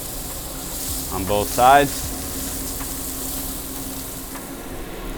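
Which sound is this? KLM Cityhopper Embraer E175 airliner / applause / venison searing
venison searing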